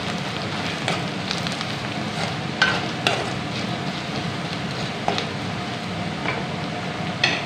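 Spices with red chili powder and meat masala sizzle in a pan on a home kitchen stove, a steady crackling fry broken by scattered scraping stirs and light clinks.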